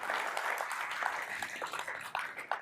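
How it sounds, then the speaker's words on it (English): Audience applause for a training team at a live mortgage-lending event, a moderate, fairly distant patter of many hands clapping that holds steady for a few seconds without talk. "I do want to give our training team a round of applause for all that they do"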